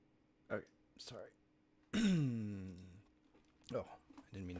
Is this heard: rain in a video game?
no